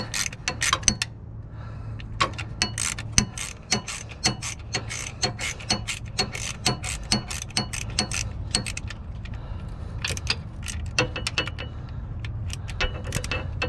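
A ratchet clicks steadily while the belt tensioner is released on a 1996-2004 Nissan Pathfinder, giving a close, rapid train of sharp clicks over a low background hum with no talking.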